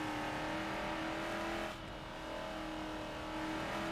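Engine note of the Hot Wheels Bone Shaker car in Forza Motorsport 7, a sustained tonal drone that briefly dips mid-clip before building back up, with no talk.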